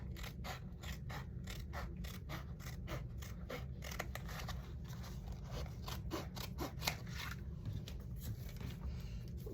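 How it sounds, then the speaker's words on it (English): Scissors cutting roughly through a faux leather nameplate, a rapid run of crisp snipping and crunching cuts repeating steadily at close range over a quiet low hum, with no talking. "I'm just gonna cut it roughly here"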